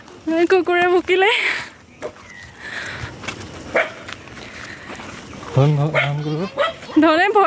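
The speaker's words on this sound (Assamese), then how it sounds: "কুকুৰে ভুকিলে" A dog barks a few times on a hillside road cut through the hills, its short barks and yips breaking in among people talking nearby.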